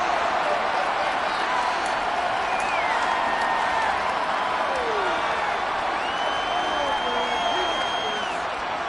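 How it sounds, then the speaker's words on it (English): Steady roar of a stadium crowd in a Madden football game, with shouts and whistles rising over a continuous wash of noise throughout. "Plenty of shouts from this crowd as they watch the replay"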